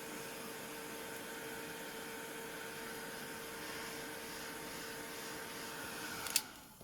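A heat gun drying a craft card (ATC) blows a steady, even hiss of forced air throughout, close and constant, with a short click near the end as it shuts off.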